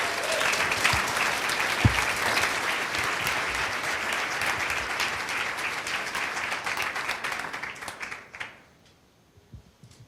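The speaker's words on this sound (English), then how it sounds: "let's get the guys all riled up with a big round of applause" Big round of audience applause at a startup demo day, dense sustained clapping from a large crowd that holds steady for about eight seconds before quickly dying away to near silence.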